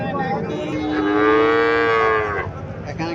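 A Sahiwal bull calf at a cattle market lets out one long, loud moo lasting about two seconds, rising and falling, with low background murmur and no talk.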